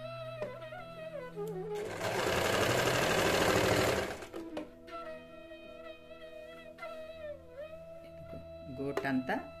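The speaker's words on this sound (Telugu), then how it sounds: "సెకండ్ కుట్టు కూడా దీని అవతల నుంచి సెకండ్ కుట్టు వేస్తాను" A sewing machine stitches the lining of a blouse in a steady, loud whirring burst lasting a couple of seconds, with someone talking before and after it.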